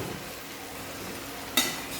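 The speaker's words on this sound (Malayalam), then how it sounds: "ഇനി നമുക്ക് ഈ പാനിലേക്ക് ചിക്കൻ ഇട്ട് കൊടുക്കാം." Chicken pieces sizzling in a hot pan for chilli chicken, a steady low frying hiss with a short scrape of stirring near the end, close and moderately loud, no voices.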